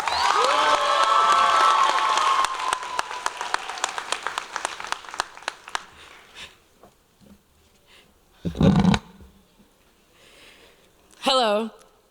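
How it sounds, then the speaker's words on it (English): Graduation audience applauding and cheering for a high school and adult education class of 2024, dense clapping and crowd noise for the first several seconds, then thinning into scattered claps, with brief bursts of cheering and voices later. "Let's give another round of applause for the class of 2024."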